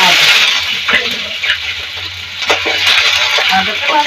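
Ginger frying in oil with dry chilli, panch phoron and bay leaf makes a loud, steady close hiss with occasional spits and crackles, while a person talks over it.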